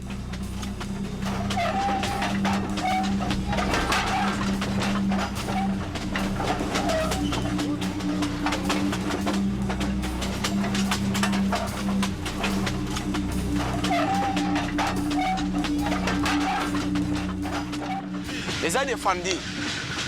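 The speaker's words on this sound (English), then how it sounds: "as the train's movement could knock them off" Moving train in Katanga, Congo, a steady rumbling and rattling ride heard from close by, with squealing wheel noise and continuous loud clatter while people talk over it throughout.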